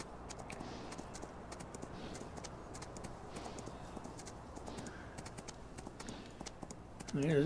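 Steady clip-clopping horse hoofbeats in the video game Farming Simulator 19 patter continuously at a moderate pace, with a voice talking faintly over them and light bird chirps in the background.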